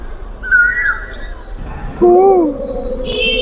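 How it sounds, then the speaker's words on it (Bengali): An owl calls with short, wavering tonal cries at moderate distance. Thin whistling tones and soft background murmur surround them. "পেঁচার ডাক দেখুন"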